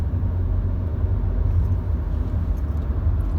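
Inside a BMW 3 Series diesel car as it accelerates on the road, a steady deep engine rumble and road noise fill the cabin, close and constant throughout.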